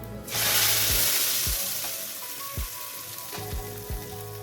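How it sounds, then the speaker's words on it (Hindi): Loud, bright sizzle bursts as hot oil tempering is poured onto haleem, a crackling hiss that slowly fades, with a few low clunks of a spoon stirring. "जैसे ये अच्छी तरह से गर्म हो जाए तो हम हलीम को तड़का लगा देंगे"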